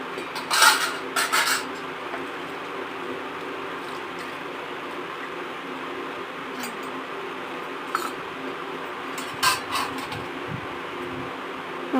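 Metal puja utensils being handled and set in place at home, giving a few scattered clinks and clatters, two brief bursts near the start and a couple more later, over a steady low room hum.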